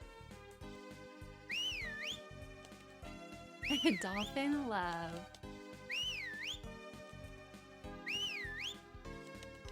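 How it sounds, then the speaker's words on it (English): Whistling in the farming video game Harvest Moon: Magical Melody, a repeated rising-and-falling tuneful whistle cue heard several times over bouncy game music, with a person briefly talking in the middle. "we're gonna whistle outside of the spring farm"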